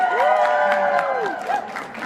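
At BookCon in New York City, an audience cheers and applauds for Nancy Drew: a short burst of whoops and shouts over clapping that stays loud and close for about two seconds.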